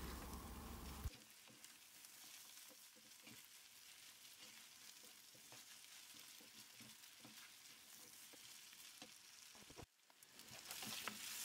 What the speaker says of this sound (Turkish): Pirinçleri topak olana kadar kavuralım.